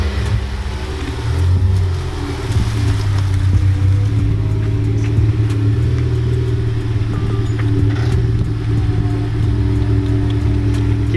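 A car engine after a coilover install is revved by a D2 owner, a loud close rumble that rises in pitch and holds a steady droning growl for about ten seconds.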